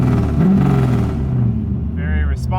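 An LS-swapped Mazda Miata engine, running strong with its cooling fans on, revs up and quickly settles back to a steady idle rumble, the sound close and loud with a voice talking over part of it.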